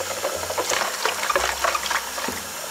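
Hot water pours onto soap pieces for cleaning a hairbrush: a close, steady splashing stream that runs continuously for a few seconds without talk.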